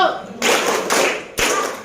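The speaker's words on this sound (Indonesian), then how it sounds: "Sama-sama kita lakukan tepuk 1," Schoolchildren in an Indonesian classroom do a counted clap routine, giving three distinct bursts of hand clapping separated by short pauses, loud and close.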